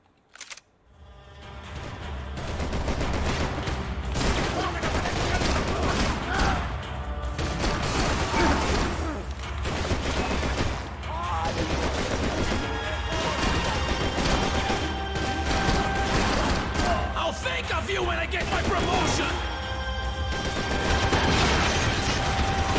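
Dense, rapid gunfire from the Max Payne 3 shooter game rattles continuously for about twenty seconds, with sharp overlapping shots, impacts and mechanical clatter over a loud, busy game soundscape.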